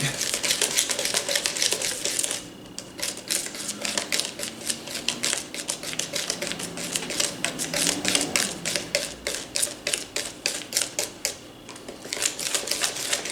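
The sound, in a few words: whisking cake batter in a bowl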